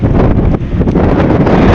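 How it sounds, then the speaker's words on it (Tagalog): Strong wind at sea buffeting the deck of a passenger ship, a loud continuous roar and rumble with heavy gusting pressure against the microphone. "Lakas ng hangin. Puro lakas ng nito sa laot mga kamamay."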